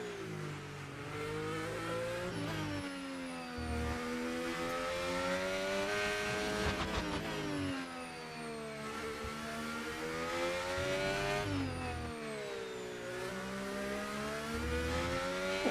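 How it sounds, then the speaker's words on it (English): An F1 race car in the F1 25 video game lapping a circuit, its high-pitched engine screaming continuously through repeated rev rises and drops as it shifts gears, loud and close. "let's first do this opening lap with normal driving"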